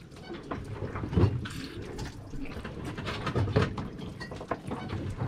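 Water runs from a sailboat's 20-gallon freshwater tank, giving a continuous gurgling, splashing flow with a few louder spurts, close by and with no one talking.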